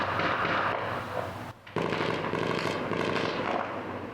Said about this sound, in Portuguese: Esses disparos foram registrados por quem vive na região e tem medo de aparecer.